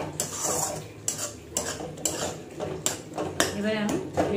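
A utensil stirs a fried tomato mixture in a cooking pan, giving repeated scraping and clinking strokes at close range with a faint sizzle underneath.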